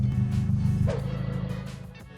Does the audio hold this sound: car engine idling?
yes